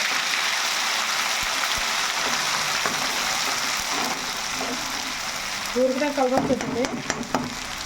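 Ginger garlic paste sputters in hot oil with a loud, continuous crackling sizzle and stirring. A faint voice or tonal sound rises briefly near the end.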